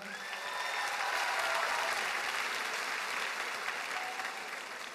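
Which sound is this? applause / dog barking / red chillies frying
applause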